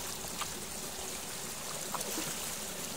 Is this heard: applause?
no